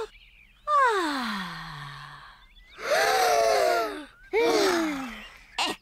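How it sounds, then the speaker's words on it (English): Young cartoon children at a campsite take several exaggerated breaths in and out, three drawn-out sighing breaths in a row with short pauses between, close and clear with no speech over them. "Breathe in the wonderful fresh air"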